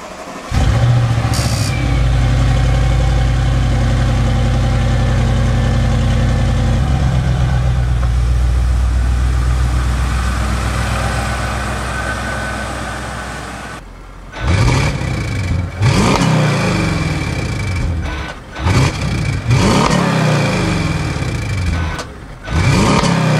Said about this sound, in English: we got the first cold start ever on the RS7